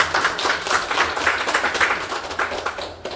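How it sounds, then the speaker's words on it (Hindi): An audience at a weekly business meeting claps in a steady, rhythmic burst of hand claps that lasts a few seconds, then starts to fade at the end. "ताली बजाइए।"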